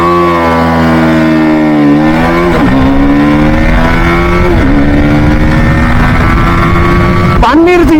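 A BMW G 310 GS motorcycle accelerating hard from standstill toward 100 km/h: a loud close engine whine climbing in pitch through several gear changes, each shift marked by a brief dip before the roar builds again, with steady wind rush.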